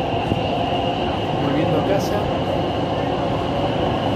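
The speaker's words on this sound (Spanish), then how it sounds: "acá estoy en el subte" Subway train ride on the Buenos Aires subte in the evening, a loud steady rumble and rail hum filling the car, with a person speaking briefly over it.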